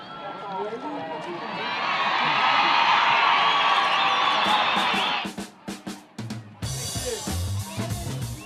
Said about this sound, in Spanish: fue el Mago Valdivia el que se ganó los primeros aplausos del estadio.